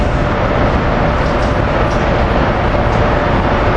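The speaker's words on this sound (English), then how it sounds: "This has got to be the shortest 3-engine freight I've ever seen on the other side of the Schuylkill River here." A short freight train pulled by three engines rolls past across the Schuylkill River as a steady, continuous broadband rumble and rush that holds even and fairly loud throughout, with no voices.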